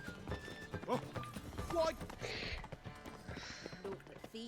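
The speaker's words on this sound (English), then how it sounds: "You jump on the horse, come here Roach" Hooves of Roach, a horse in the video game Witcher 3: Wild Hunt, clip-clop in an uneven rhythm beside a brief whinny, with someone talking over much of it.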